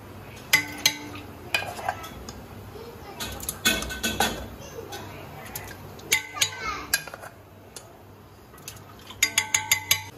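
A utensil scrapes and clinks against a pot while garlic-ginger paste is stirred into haleem, a series of sharp metallic knocks in uneven bursts, with a quiet household hum between them.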